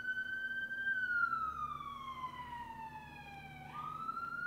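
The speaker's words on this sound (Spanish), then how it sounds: "Ándale, la patrulla." A police patrol car siren wails steadily, then sweeps downward in pitch as it passes and rises again at the end, fairly close and clear over low traffic rumble, with no talking.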